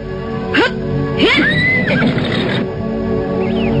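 A horse neighs loudly and close by, a couple of sharp rising calls followed by a longer quavering whinny over a steady background hum.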